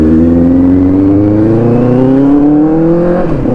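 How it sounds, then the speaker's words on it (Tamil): An inline-four superbike engine runs close by in a loud, smooth, buzzing drone whose pitch climbs steadily as it revs, then dips slightly near the end. "ஆஹா இன்லைன் 4 சவுண்டு கேட்டு எவ்வளோ நாள் ஆச்சு"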